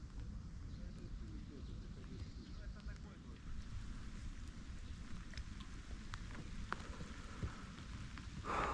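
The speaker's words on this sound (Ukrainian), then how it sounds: "Знову дощ." Steady rain patters outdoors at a pond while float fishing for crucian carp in summer, with broadband hiss and scattered drops, joined by low rumbling noise and occasional wind buffeting on the microphone.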